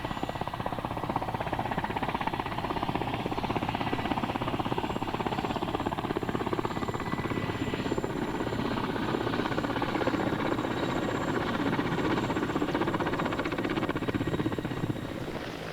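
A helicopter landing at a reindeer herders' encampment in Mongolia, its dense rotor roar and turbine whine loud and continuous throughout, with no voices.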